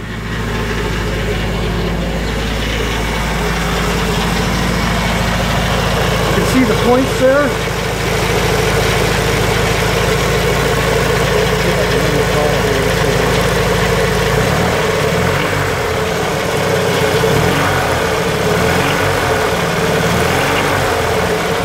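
A Kawasaki Z600 two-cylinder engine idles with a steady low throb, loud and close. Its rumble shifts and lumps partway through, and someone speaks briefly over it.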